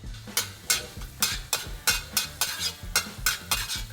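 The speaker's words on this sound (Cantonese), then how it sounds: "嗱，啱先我咁啊將啲生嘅蒜蓉爆佢。" Raw minced garlic frying and being stirred in a wok with a little garlic oil, sizzling steadily while a spatula scrapes in quick, regular strokes, close and alone.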